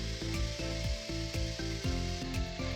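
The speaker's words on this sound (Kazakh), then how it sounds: "Мінекей пончиктерімізді осылай екі жағын қызартып пісіріп аламыз." Soft yeast doughnuts frying in hot oil, turned to brown on both sides, give a steady close sizzle with light bubbling and occasional faint utensil clinks.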